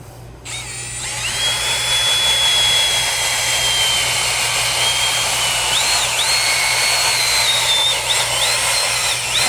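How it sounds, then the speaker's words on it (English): A drill-powered scrubbing brush works soaked car floor mats in a Volkswagen Sportwagen, a steady loud whirring whine with faint pitch wobbles, running continuously close by with no talking. "now let's try that drill brush"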